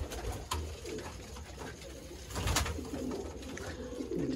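Sialkoti batera pigeons coo softly with low, rounded calls at a distance, faint against quiet outdoor background noise.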